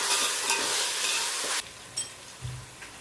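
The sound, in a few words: ginger garlic paste sautéed in oil for chicken biryani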